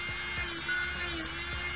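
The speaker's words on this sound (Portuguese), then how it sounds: "E eu vou com movimentos rápidos para que a broca não esquente." Electric nail drill spinning at about 30,000 RPM against gel nail polish, a steady faint whine with two brief louder bursts of grinding as the bit is swept in quick passes.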